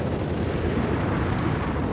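A steady, dense rumble of a large explosion from the film Star Trek VI: The Undiscovered Country, a broad roaring wash that holds unchanged for the whole short stretch with no voices.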